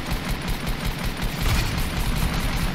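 Rapid gunfire in Fortnite during a tournament match, dense bursts of shots crackling continuously for the whole stretch, loud and busy with no pauses.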